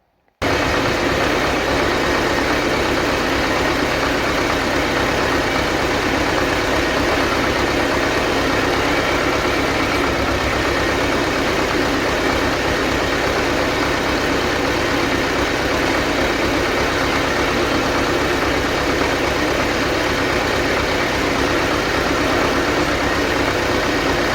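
A T-16 tractor engine runs steadily at close range, a loud, unchanging low rumble and clatter that continues without a break for the whole stretch while its hydraulic pump drives the lifting gear.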